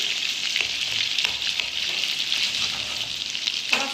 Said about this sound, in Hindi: थोड़ा सा हम इसको फ्राई करेंगे